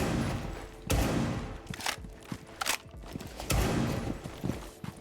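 Gunfire from the Tubarao operator's weapon in Rainbow Six Siege, Operation Deep Freeze. Several loud bursts of rapid shots come close together, mixed with lighter in-game clatter and movement noise between them.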